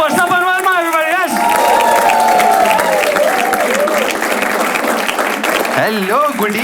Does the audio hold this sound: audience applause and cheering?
yes